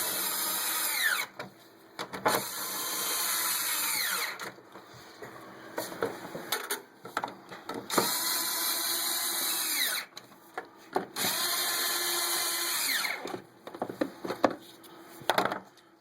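A power drill runs close by, tightening the radiator bolts on a Chevy pickup with a 5.7 L engine, in several sustained whirring runs of rising pitch separated by short pauses.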